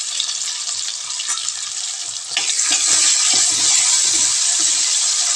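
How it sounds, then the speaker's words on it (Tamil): Onions and tomatoes sautéing in a pan for a chicken keema curry, a loud close sizzle that swells and brightens midway as the pan hisses steadily on its own. "வெங்காயம் கொஞ்சம் வதங்கட்டும். ஸோ நெக்ஸ்ட்டு வந்து தக்காளி சேர்த்துக்கலாம்."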